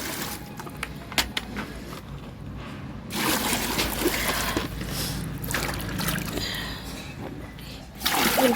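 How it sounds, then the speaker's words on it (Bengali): Hot water pours and splashes into a basin for a child's bath, a watery rush starting partway through and running steadily, with quieter handling sounds before it. "এটা গরম জল গামলায় দিয়ে দিয়েছি।"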